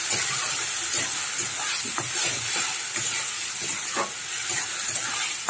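Ground shrimp paste is stirred into browned fried onions in a hot pan, giving a steady loud sizzle and hiss with occasional scraping strokes of the spoon, and no talking.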